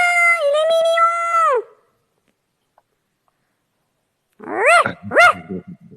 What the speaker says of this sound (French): c'est qui lui? c'est mon toutou.